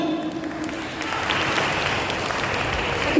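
Applause from a crowd at a Bengali club's Bijoya gathering in Andaman, a steady, fairly loud clapping that continues throughout.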